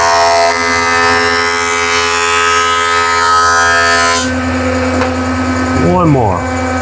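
Thickness planer running steadily while planing a piece of wood, a loud continuous motor whine that shifts in tone partway through as the cut changes, with a voice briefly heard over it near the end.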